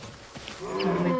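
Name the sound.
elephant herds calling to each other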